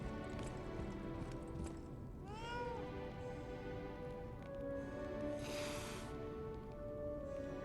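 A cat meows in a video game, an angry puppet kitty in Lies of P, giving a rising, drawn-out wail followed by shorter tonal mews over a busy game background.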